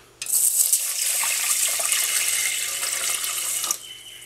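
Water pours steadily into a saucepan holding rice for rice pudding for a few seconds, a full rushing splash that stops abruptly near the end.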